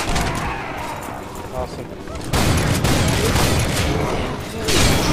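Akimbo guns firing in rapid bursts in a video game set in Steel Town, dense loud volleys that intensify midway, with a voice briefly speaking over the shooting.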